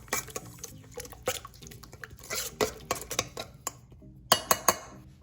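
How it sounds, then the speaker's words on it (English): Olive oil and soy sauce stirred together in a bowl, irregular close clinks and scrapes of a utensil against the dish with a few wet drips. "Okay, mix it a little more."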